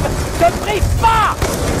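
Heavy booming blasts from grenade explosions during urban combat in Los Angeles in the video game Call of Duty Black Ops 2 rumble under shouted voices and busy battle noise.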